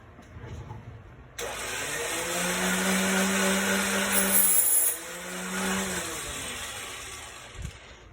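A Dremel rotary tool cuts off a metal piece meant to mount to a frame. Its high, steady whine starts abruptly and runs for several seconds, dipping briefly as the wheel bites into the metal, then cuts out.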